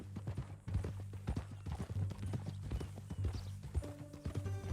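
Horse hooves clip-clop steadily in Red Dead Redemption 2, a close, regular trotting rhythm of sharp knocks over a low ambient drone, with a brief tonal chime near the end.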